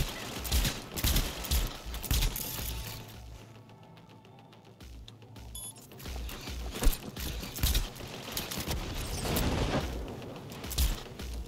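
Turret gunfire in the video game Cyberpunk 2077, rapid mechanical bursts and clattering shots over dense game noise, with a quieter lull partway through before the firing resumes.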